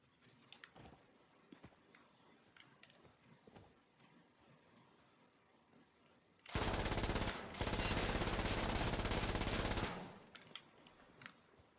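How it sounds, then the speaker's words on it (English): A modernized MG42 light machine gun fires in Insurgency Sandstorm: a loud, sustained automatic burst of about three seconds with one brief pause in the middle, rising out of quiet background shuffling. "It's just the MG42 just modernized for a different like caliber."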